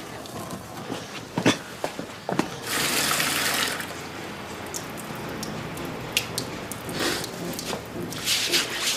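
Water runs and splashes at a site with stone inscriptions, a steady hiss of flow swelling for a couple of seconds amid scattered knocks and footstep-like taps, with brief bursts of splashing later.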